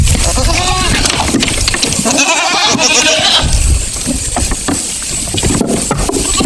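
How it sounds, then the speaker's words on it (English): Young female Nubian-type goats born in spring bleat on a farm, several calls rising close by amid background chatter and human voices, with a lull in the middle before louder noise returns. "All the goats that you're looking at right now are females that were born in the spring."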